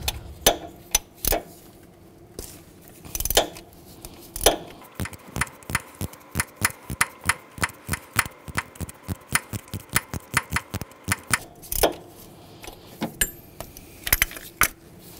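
A ratchet with a 19 mm socket works a coolant temperature sensor loose on a Chevrolet Equinox. Sharp metallic clicks come in scattered bursts, then settle into a fast, even ratcheting rhythm close by.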